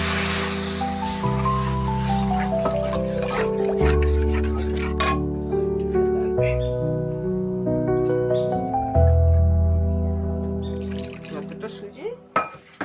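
Water is poured into semolina batter in a pot while making suji lengcha, with clinking of a utensil and glass against the pot and liquid trickling beneath steady background music.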